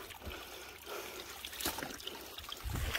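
Water trickles faintly from an old pipe on a wooded hillside, a quiet, uneven dribble with a few soft knocks and scuffs nearby.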